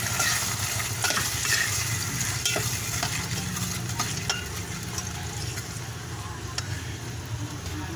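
Sautéed sardines with vermicelli noodles are stirred in a pan, soft sizzling under scattered scraping clicks of the utensil, quiet and close with no talk.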